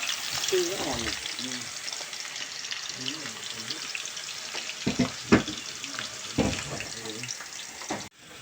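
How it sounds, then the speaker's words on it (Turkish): Steady sizzling of food frying in a pan, with scattered clinks and bumps, and faint indistinct voices now and then in the background. "kızartma işini kardeşime devrettim"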